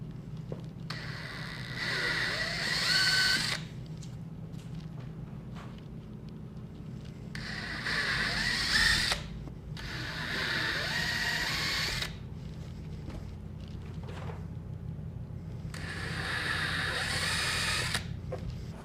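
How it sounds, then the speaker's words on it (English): A drill with a 9/32 bit opens up holes in a Corvette C6 aerodynamic body kit panel in four separate bursts of whirring and grinding, each lasting a few seconds, with a low mechanical hum between them. "I'm going to take a 9/32 drill bit, which is a little bit bigger than the threads and smaller than the washers on our hardware,"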